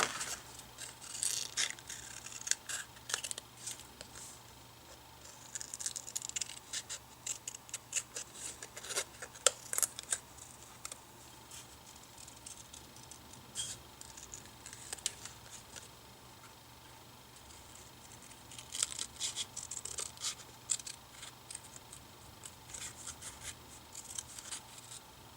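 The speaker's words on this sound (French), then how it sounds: "Je vais maintenant découper mon étiquette Nounou Marion avec des petits ciseaux" Small pointed scissors snipping around a paper label, with bursts of quick close crisp cuts separated by quiet pauses and faint rustling of paper, no talk.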